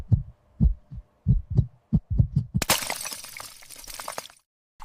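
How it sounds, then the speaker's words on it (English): Heavy, booming heartbeat thumps repeat in a steady rhythm for a few seconds in a horror movie score, then give way to a loud burst of crashing, shattering noise. "A single heart beat loudly."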